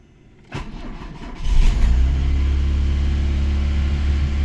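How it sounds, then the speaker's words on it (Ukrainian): A cold VAZ 2108 fuel-injected car engine turns over and catches, then settles into a steady, fairly loud running drone at about 2000 rpm with a low rumble that continues to the end. "2000 оборотів, двигун холодний."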